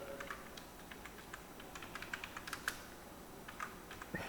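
Keys tapped on a computer keyboard in irregular bursts of quiet clicks, fairly soft and close, with no talking while the keys are pressed.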